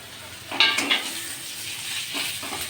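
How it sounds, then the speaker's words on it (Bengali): Ginger, garlic, chili and onion dropped into a little hot oil with cumin seeds, bursting into a loud, close, steady sizzle with a few spoon scrapes against the pan. "এর মধ্যে আমি আদা, রসুন, লঙ্কা আর পেঁয়াজ এতে দিয়ে দিচ্ছি।"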